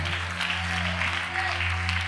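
A congregation at a Malayalam Christian worship service claps together in a steady, dense wash of applause that holds at an even level for the whole stretch, with a faint low hum underneath.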